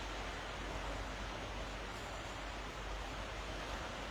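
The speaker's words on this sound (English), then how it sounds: "It's just quite calming just listening to the water." A stream running full after rain gives a steady, close, even rush of flowing water, a continuous soft hiss with no breaks and no voices over it.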